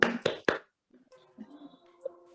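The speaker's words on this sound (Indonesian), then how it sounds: "tepuk tangan untuk kita semuanya" Three sharp, close handclaps from a class in a teaching session land in quick succession, then give way to near silence with faint background murmurs.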